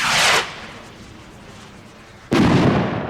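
Two heavy blasts from Klasek Signature Range Rocket fireworks, one fading at the start and a second sharp boom about two seconds later, each leaving a broad rumbling decay over windy outdoor hiss.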